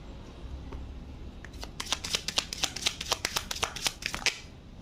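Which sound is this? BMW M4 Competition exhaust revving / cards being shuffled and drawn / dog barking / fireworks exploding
cards being shuffled and drawn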